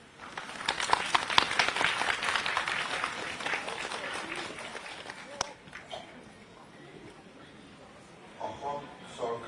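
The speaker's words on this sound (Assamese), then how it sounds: "সকলোকে থিয় হৈ হাত চাপৰি বজাই তেখেতক সম্ভাষণ জনাবলৈ পুনৰবাৰ আমি অনুৰোধ কৰিছো।" Seated audience in an auditorium rising to clap in welcome for the Chief Minister, a dense burst of applause building over the first seconds, then thinning into scattered claps and murmuring voices with a sharp knock near the middle.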